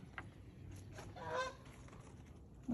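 A single honk from a goose or duck sounds once, brief and somewhat distant over low outdoor background noise.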